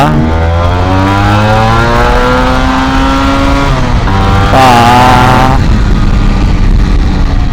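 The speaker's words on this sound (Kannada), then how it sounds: "2 ಸ್ಟ್ರೋಕ್ ನೋಡಿ, ಸೆಕೆಂಡ್ ಗೇರಲ್ಲಿ ಇದ್ದೀನಿ ಹೆಂಗೋಗುತ್ತಂತ" A modified Yamaha RX100 two-stroke motorcycle accelerating hard in second gear, its loud close buzzing engine note climbing steadily in pitch, dipping briefly, then rising again, with no talk.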